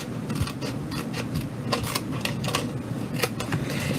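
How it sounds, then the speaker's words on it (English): Scissors cutting cardstock up to a score line while making a Christmas gift card holder, giving a run of close, crisp snipping and rasping strokes with steady background noise throughout. "you're going to take your scissors, okay, and we're going to cut up to that score line"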